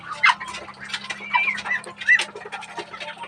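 Twenty-three small ducks eating chopped coconut, their quick nibbling and pecking sounds mixed with short squeaky bird calls, close and lively over a faint steady background hum.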